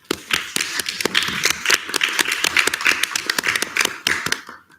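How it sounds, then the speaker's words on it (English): An audience at a student senate meeting applauds Chair Karango with a burst of scattered, close handclaps. The clapping goes on steadily for several seconds, then thins out and stops. "Can we give a round of applause to Chair Karango?"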